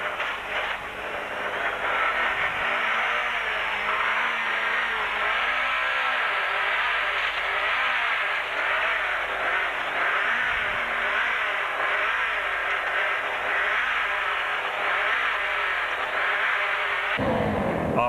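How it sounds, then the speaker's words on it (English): Rally Volkswagen Golf with a dropped valve labours uphill with the clutch dipped, its engine giving a strained, wavering high-pitched drone heard from inside the car, loud and continuous until it cuts off near the end. "Note how he has to dip the clutch to get the car up the hill."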